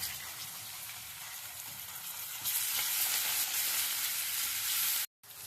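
Onion and curry leaves fry in an Indian pan with a steady broadband sizzle, growing louder about halfway through and briefly cutting out near the end before resuming.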